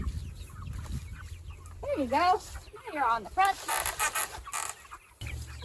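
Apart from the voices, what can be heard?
chickens clucking on a farm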